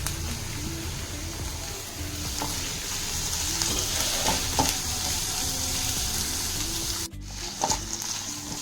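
Chopped onion and capsicum sautéing in a pan for a chicken snack filling, a dense continuous sizzle with a few soft stirring knocks, close and steady.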